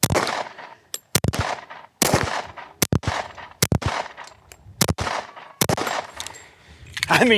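A rifle fired repeatedly, sharp loud cracks in an uneven rhythm of roughly eight to ten shots, some in quick pairs, each ringing out briefly before the next.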